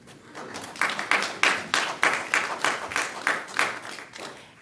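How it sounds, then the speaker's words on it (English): Audience members at a council meeting clap in a steady run of close, evenly spaced claps lasting a few seconds, with no talking over them. "can I ask you to please hold off on the clapping?"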